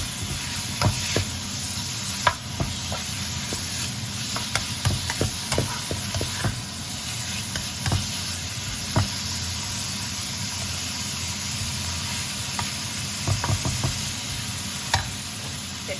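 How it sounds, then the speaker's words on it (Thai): Pork stir-frying in a pan makes a constant close sizzle, broken by irregular scrapes and taps from a utensil stirring, some sharp knocks among them; nobody speaks. "ผัดหมูให้สุกนิดหน่อยค่ะ"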